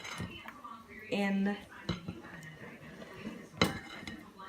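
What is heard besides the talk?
spatula folding eggs into a mixture in a bowl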